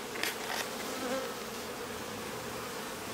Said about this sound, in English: Do you see the bee coming out right there?